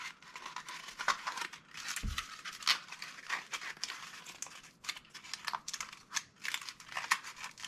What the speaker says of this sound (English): And then as you're flexing it, wrap the tape over the edge.